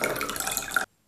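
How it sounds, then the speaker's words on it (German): Vinegar pours from a container into a measured amount of water, a short bubbling, gurgling stream of liquid heard close up and alone for under a second before it cuts off abruptly. "Ich habe hier 100 ml Wasser und gebe dazu nochmal 100 ml Essig."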